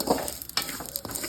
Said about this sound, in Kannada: ನೋಡಿ ಹುರಿತಾ ಇರೋ ಚಟ್ಪಟ ಅಂತ ಇದು ಫ್ರೈ ಆಗ್ತಾಯಿದೆ